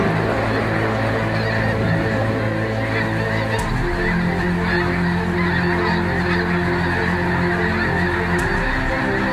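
A large flock of snow geese and blue geese honks loudly and continuously as the birds lift off from the water, a dense overlapping chorus of calls with a sudden surge partway through.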